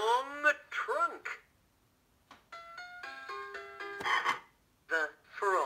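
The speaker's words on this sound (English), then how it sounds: "The frog has webbed feet." A children's Vetch apple musical learning toy plays a short electronic frog croaking effect, followed by a melodic chime sequence. A recorded voice speaks around the sounds.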